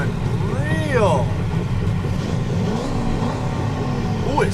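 Modded van engine in the BeamNG driving game revving and rolling coal, a rising and falling engine whine over a steady low rumble, heard under ongoing talk.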